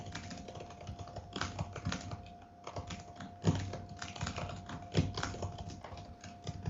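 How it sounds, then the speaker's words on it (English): Steady typing on a computer keyboard, a continuous patter of quiet key taps with occasional sharper strokes, heard close and alone without talk. "I can hear you typing. It's quite loud."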